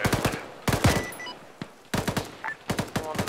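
Bursts of rapid automatic gunfire in a military video game, several close, loud volleys separated by short pauses, with a couple of single shots and faint electronic tones between them.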